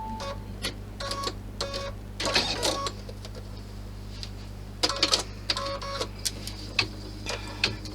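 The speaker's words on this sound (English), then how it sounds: "And then I'm going to stitch out the panel." An embroidery machine stitches out a bag-strap panel in the hoop, a steady low hum under repeated bursts of rapid clicking and tapping as the needle works.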